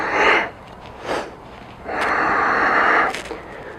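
Heavy, forceful breaths during a shoulder press exercise come in three loud, rasping bursts, the last one long and sustained, close to the microphone with no talk.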